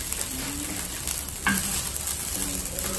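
Lemon rice is stirred in a pan, a gentle steady sizzle with the occasional scrape and clink of a spatula against metal, close by and without voices.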